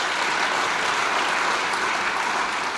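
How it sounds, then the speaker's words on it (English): Audience at a chamber of commerce awards gala applauding a retiring board member, a dense, even wash of many hands clapping that holds steady throughout. "Let's give her a little applause."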